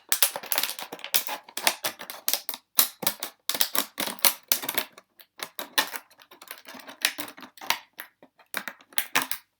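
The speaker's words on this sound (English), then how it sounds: "hold your bottle like this and kind of start cutting into it" Scissors snip and crunch through a thin plastic water bottle in a rapid series of sharp, close cuts, with brief pauses between bursts.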